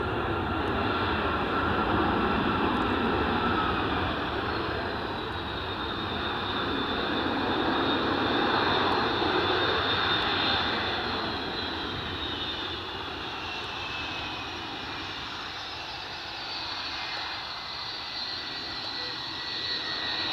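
Jet aircraft engine roar at Edinburgh Airport, a loud continuous broadband rumble with a steady high whine, swelling slightly and then holding as the plane moves nearby; no speech.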